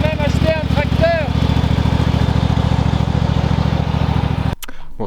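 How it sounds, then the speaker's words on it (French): A tractor engine runs nearby with a steady, loud mechanical drone and rhythmic chugging, then cuts off abruptly near the end; a voice speaks briefly over it. "On a même acheté un tracteur."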